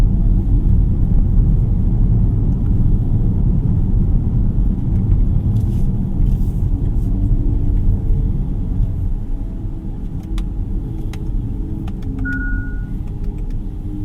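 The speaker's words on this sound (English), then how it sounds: "Does sound like a spaceship, this car." Hyundai IONIQ 6 GLS electric car driving in sport mode, heard from inside the cabin as a steady low rumble of road and motor noise that eases off slightly partway through, with a brief higher tone near the end and no talking.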